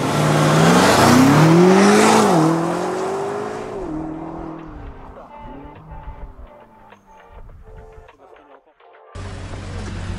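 A BMW accelerates hard on a driving course, its engine note climbing loudly through rising gear pulls, then easing off into a quieter, fading whir with light rattles near the end.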